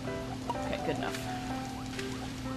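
Steady patter of rain in Kirby's Epic Yarn's Flower Fields plays over a low hum, with a few faint tonal blips scattered throughout.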